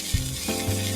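A steak sizzles in a hot pan right after being flipped, a steady close frying hiss with a brief thump at the turn and no talk.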